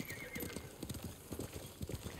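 Horse hooves clip-clopping in a steady run with repeated neighs and whinnies from a video game horse, loud and close throughout.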